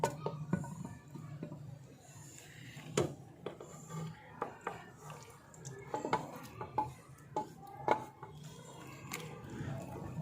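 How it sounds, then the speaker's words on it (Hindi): Cooked mutton for Peshawari namkeen gosht being shifted into a second wok, with a ladle scraping and clinking against the metal pan in irregular knocks and rubs, fairly quiet and close. "अभी इसको हम दूसरी कढ़ाई में शिफ्ट करेंगे।"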